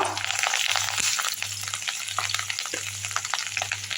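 Ginger, green chili and curry leaves frying in hot oil in a pan for restaurant-style Hyderabad majestic chicken, a busy crackling sizzle with stirring scrapes throughout and a low steady hum beneath.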